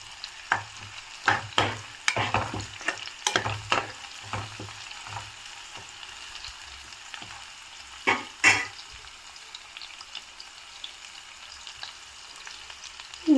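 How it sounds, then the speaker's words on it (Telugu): Bay leaf and mint frying in hot oil for Telangana-style bagara rice, with several sharp stirring clatters and crackling sizzles early on, settling to a quieter hiss before a couple more scrapes. "వేగిన తర్వాత బిర్యానీ ఆకు, కొంచెం పుదీనా బాగా వేగాలండి."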